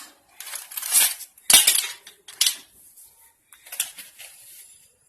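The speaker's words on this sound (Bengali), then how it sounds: "কিছুটা আমি এবারে নুন মিশিয়ে দিচ্ছি।" A metal spoon scrapes and clinks against a pot while salt is mixed into boiled white rice for mutton biriyani, in several short bursts of scraping with brief quiet gaps between.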